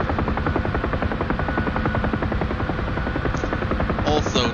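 Helicopter rotor and turbine in the DCS flight simulator, a loud continuous pulsing chop close up, steady throughout with a brief higher whine near the end.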